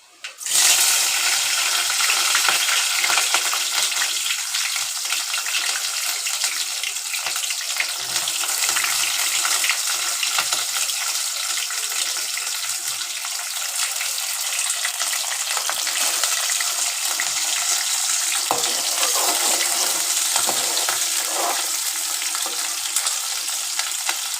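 Onion and green chilies hiss and fry loudly in oil with roasted fenugreek, a dense, steady sizzle that runs unbroken throughout with occasional stirring.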